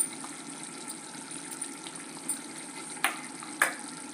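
Chicken curry with masala is stirred in a pan, a soft steady bubbling sizzle close by, with a few faint scrapes and two sharper utensil knocks toward the end; no one talks.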